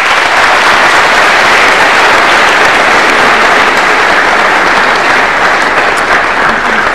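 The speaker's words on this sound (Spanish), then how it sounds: "Lo recibimos con un fuerte voto de aplausos" A large crowd gives loud, sustained applause welcoming a speaker at a book presentation evening, a thick continuous roar of clapping that stays close and full for the whole stretch.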